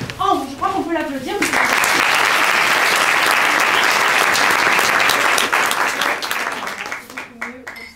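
An audience at an improv theatre festival show applauds a young volunteer named Ambre, a loud sustained burst of clapping after a voice speaks briefly, fading as talk resumes near the end.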